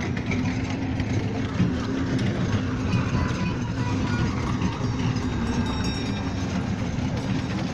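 A children's train ride rolls through a park with a steady, continuous low rumble of engine and wheels, close by and unbroken, while voices carry in the background.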